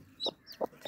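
A hen gives three short, evenly spaced clucks close by, near newly hatched chicks, with faint high chick peeps between them.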